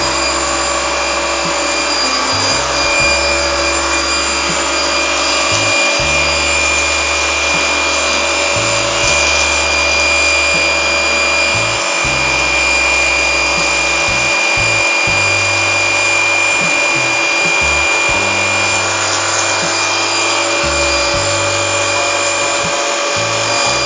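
A high-pressure water pump for steam-cleaning air conditioners runs loud and steady, a continuous hissing whine over an uneven, pulsing low rumble, with no talking.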